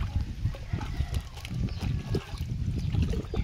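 Triple X shampoo is stirred into a container of water for bathing chickens, giving close, uneven sloshing and splashing that keeps on throughout, with a voice talking now and then over it.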